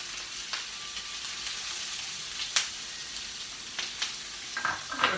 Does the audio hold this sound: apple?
yes